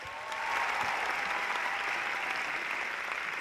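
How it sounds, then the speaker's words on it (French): An audience at a festival gala of cultures and languages applauds, a dense, even wash of clapping that swells in quickly and holds steady at a moderate distance. "Applaudissez-la bien fort."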